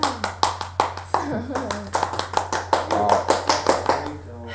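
Hand clapping from a small group, a run of sharp claps alongside a steady low hum, fairly close and loud.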